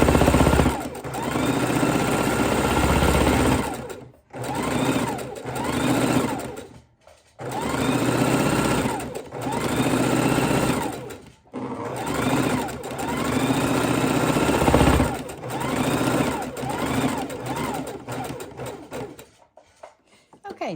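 A sewing machine stitches raw edge appliqué in repeated runs of fast, buzzing whirring, each lasting a few seconds and separated by short pauses as the foot is adjusted, with someone talking over it.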